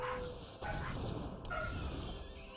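Pet dogs bark and yip indoors at someone outside the front door, heard faintly and at a distance under a person talking and game sounds.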